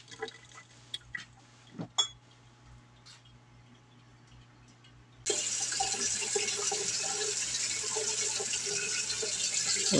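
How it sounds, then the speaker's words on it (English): Water pours steadily into a pot of chicken stew in a continuous rushing stream, loud and close, after a few seconds of quiet clinks and small drips. "Now we're going to cover this with some water."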